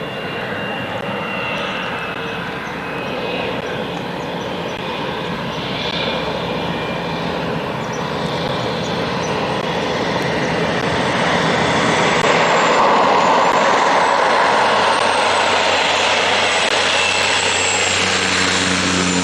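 A float plane comes in to land on an Alaskan lake, its propeller engine droning steadily and growing louder and nearer over about twenty seconds, with no talk.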